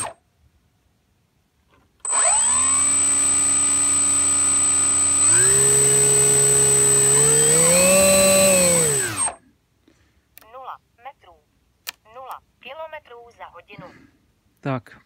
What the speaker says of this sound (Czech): Motor je